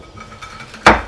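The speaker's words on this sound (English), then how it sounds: "take my cast iron skillet, and using the back of it, I'm just going to press down" The back of a cast iron skillet crushes cooled peppercorns, a single sharp, close crunching knock landing near the end after a quiet stretch of faint clinks.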